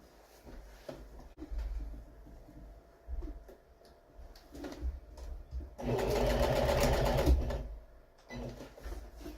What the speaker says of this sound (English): So now I'm just going to finish stitching off the rest of the cover.